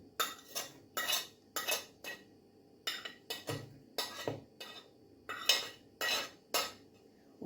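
A spoon clinks against a metal pot as tomatoes and onions are added to fava beans, making a regular run of short metallic scrapes and knocks, close and moderately loud, with no talking.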